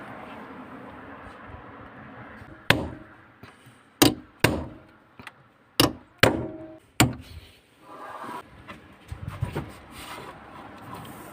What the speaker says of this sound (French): je prends un pointeau comme ça, un marteau, et je vais percer le filtre